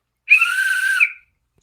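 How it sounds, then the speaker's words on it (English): One sharp, steady referee whistle blast, loud and close, lasting about a second with a slight trill at the start and end, alone against silence. "I'm looking forward to using this whistle"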